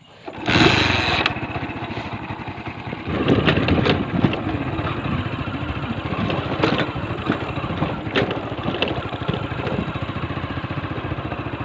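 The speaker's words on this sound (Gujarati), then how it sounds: "અત્યારે બાઇક લઈને કમ્પ્લીટ અમે જવું છે તો ચાલો કીક મારી ઉપડવી" A motorcycle in a rural village is kick-started with a brief sharp burst, then its engine runs on in a steady, close, buzzing drone with small revving surges.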